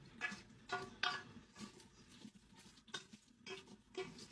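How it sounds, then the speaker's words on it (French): Onions being stirred as they sauté slowly in a pot, with soft rhythmic scraping strokes and a faint sizzle, quiet and close. "Je mélange tout ça et je laisse revenir tranquillement."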